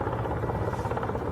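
A Russian attack helicopter in a war zone, its rotor thrumming in a steady loud pulsing drone that fills the whole moment without a break.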